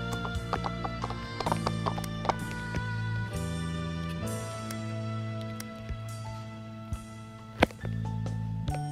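Horse hooves clip-clopping in a wild horse islands video game, a Frisian horse nearby, with steady hoofbeats under a thick layer of looping game music, fairly loud and continuous.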